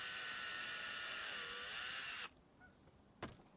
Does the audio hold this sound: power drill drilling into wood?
yes